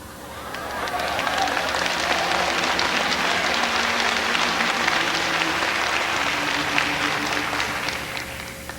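Congregation at an evangelism school service breaking into sustained applause, a dense wash of clapping that swells within the first second, holds steady and tapers near the end.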